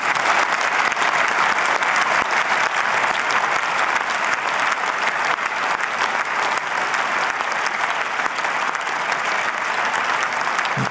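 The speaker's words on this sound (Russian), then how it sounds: "Овации довольно долгие" Long, sustained applause fills the German Bundestag chamber during a special session, a dense, even roar of many clapping hands with no break.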